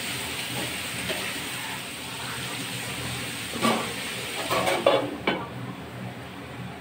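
Potatoes fry in a pan with a constant sizzle, and a few scraping stirs come through near the end. The sound is close and steady, with no one talking.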